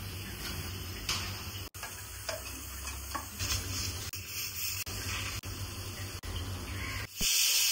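Prawn malai curry cooking in a home kitchen, soft sizzling and frying with occasional stirring clicks and ticks, faint and close, with no talking.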